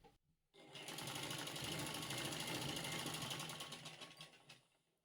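A sewing machine runs on blouse fabric in one close, continuous burst of rapid stitching that starts after a brief pause and winds down at the end.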